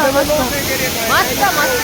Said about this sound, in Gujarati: તમે ખાલી ફ્લો પાણીનો ફ્લો જો વોટરફોલ, નેચરલ વોટરફોલ, નેચરલ.